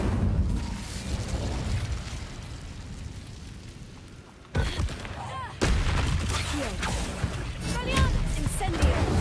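A fire spell cast in the Hogwarts Legacy video game on PS5, with loud booming bursts and a roaring rush of flame, then a brief drop before another blast, a voice speaking over the noise.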